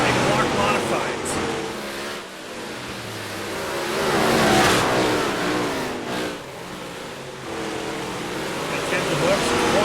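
Big block modified race cars roaring around the rough Oswego track, engines rising and falling as they pass, with a race announcer talking over the steady mechanical din.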